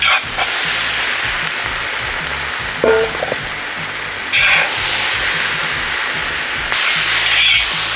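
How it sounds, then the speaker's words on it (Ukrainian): Onion sizzles and fries steadily in a cauldron over an open fire, a loud continuous crackling hiss with brief scraping bursts of stirring, and no talk. "Цибулю будемо смажити ще 3 хвилини і далі закладаємо рибу"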